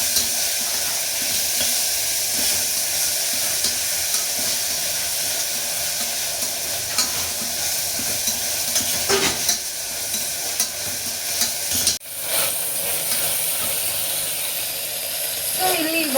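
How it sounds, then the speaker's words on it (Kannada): Fenugreek leaves are sautéed in a pan, with a constant soft sizzle under repeated scraping and stirring strokes of a spoon, close up and without talk. "ಬಾಡಿಸ್ಕೊಳ್ಳೋಣ"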